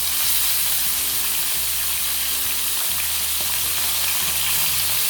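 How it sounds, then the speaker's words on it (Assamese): Fish pieces frying in hot mustard oil for a ginger fish curry, a loud, steady, close sizzle with no voices. "এনেকৈ মাছ কেইপিচ দি দিলোঁ"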